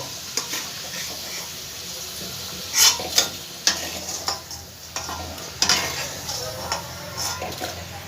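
Potatoes fry in hot oil in a pan with a steady sizzle throughout, broken by several sharp clinks and scrapes of a spoon stirring against the metal.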